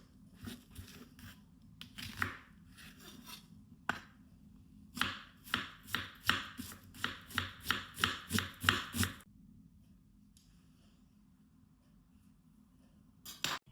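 A knife chops an onion on a board, striking in a quick, regular run of about a dozen crisp cuts. A few scattered taps come before the run, and silence follows it.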